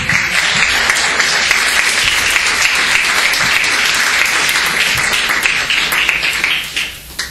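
A church congregation at an evangelistic service claps loudly in a dense, sustained burst that holds steady before tapering off in the final second.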